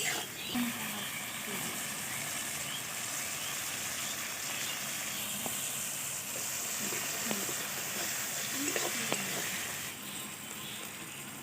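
Ginger garlic paste frying in oil for a soybean curry, a soft continuous hiss with occasional faint stirring scrapes, fairly quiet and even throughout, no talk.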